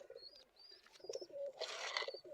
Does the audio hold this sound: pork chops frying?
no